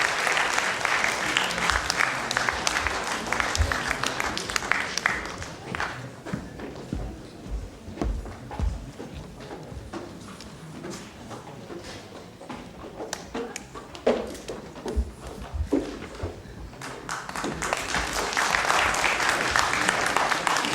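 Sustained applause from a large crowd at a Tamil movie launch, loud at first, thinning to scattered claps midway, then swelling back to full clapping at the end.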